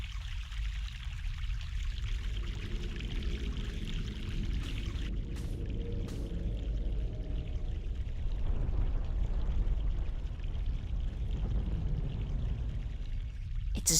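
Mountain stream in The Longest Journey: a steady, close rush of flowing and pouring water that runs continuously throughout, slightly fuller in the second half.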